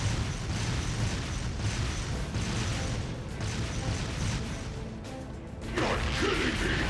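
Tanks in Trails of Cold Steel II firing and exploding in a dense, loud, continuous roar of blasts and crashes, with a heavier burst near the end.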